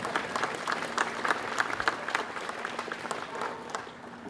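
Applause at a reception for foreign police officers and their police dogs during the Paris 2024 Olympics, sustained crowd clapping that stays fairly even, then thins slightly toward the end.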